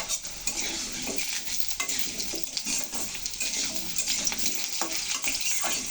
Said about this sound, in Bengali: এখন দিয়ে দিচ্ছি কচুরমুখী।